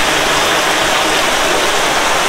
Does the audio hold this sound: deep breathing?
no